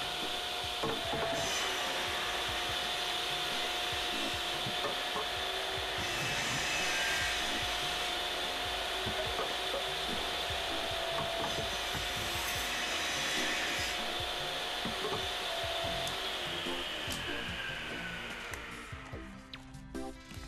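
A power saw cuts pieces of wood in a home workshop, giving a steady, loud rasping whine that runs almost unbroken for about twenty seconds before tapering off at the end.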